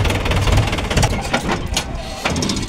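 A tractor engine runs close by in a village, giving a rough, chugging mid-pitched throb with uneven knocking pulses throughout the short stretch.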